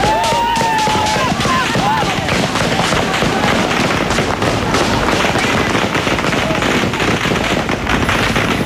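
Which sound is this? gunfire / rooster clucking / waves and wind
gunfire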